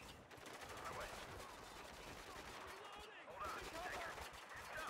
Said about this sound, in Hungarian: Hallom a lövéseket.